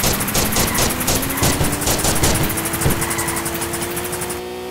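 A kart firing bullets in the video game Smash Karts, a rapid rattling burst of gunfire over a droning engine hum and game music, loud and continuous before cutting off.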